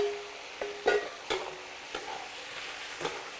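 Pork liver is stir-fried in a wok with celery and chili peppers in red chili-bean oil. A spatula scrapes and knocks at an uneven pace over a soft, steady sizzle, heard close with no talking.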